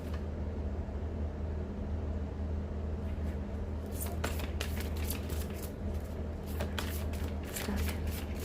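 Tarot cards shuffled by hand in quick riffling bursts, starting around the midpoint and continuing in a crisp flutter over a steady low hum.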